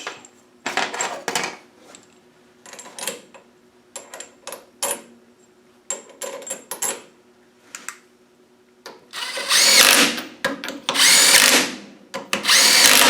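Power tool driving in four bolts to fix the cover on an LT230 centre differential, in short bursts of whirring with metallic clinks between, ending in longer loud runs.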